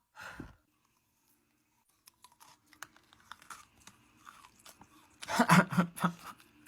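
Crunchy bites and chewing of Ice Crispy Balls, close to the mic, with scattered quiet crackles building to a loud burst of crunching near the end.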